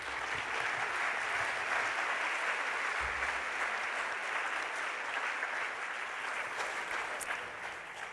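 Steady applause from a conference audience welcoming keynote speaker Ellen Tadd at Connecting for Change, a full sustained clapping that holds evenly and tapers slightly at the end.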